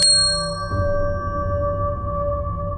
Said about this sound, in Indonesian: terdengar suara bel kuno berdentang 3 kali